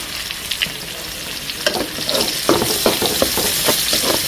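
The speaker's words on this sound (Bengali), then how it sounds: "এই মাছটা ভাজতে দিয়ে দিলাম।" Tilapia pieces frying in hot oil in a pan, a continuous close sizzle with bursts of crackling and spattering that grow louder partway through, with no voices.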